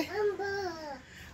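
A small child gives a drawn-out, wavering "moo"-like call, a voice imitating a cow, heard close and alone for about a second.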